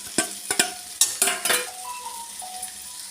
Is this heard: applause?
no